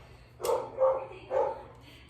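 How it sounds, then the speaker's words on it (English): Three sharp dog barks in quick succession, fairly close, over a faint low background hum. "Excuse my dogs barking up the storm"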